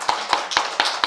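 A church congregation gathered for a New Year's Day service claps in quick, evenly spaced bursts, the sharp hand claps close and distinct with no talking over them.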